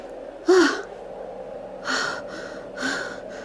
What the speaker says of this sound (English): Chloe gasped.